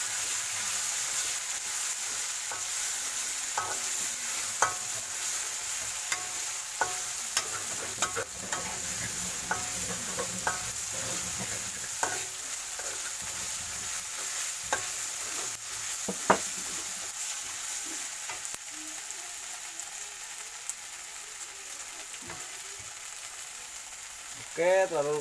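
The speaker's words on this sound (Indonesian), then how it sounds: "kita goreng bumbunya." Spice paste sizzles and crackles steadily in hot oil while a utensil scrapes and stirs it in the pan, a loud, continuous frying noise with a few sharper knocks.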